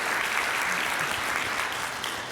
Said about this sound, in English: Yes, that is definitely worthy of applause.